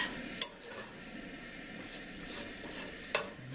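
A holed spatula scrapes and stirs Appalachian cathead biscuit dough in a bowl, a quiet continuous mixing rasp with a couple of sharp clinks against the side.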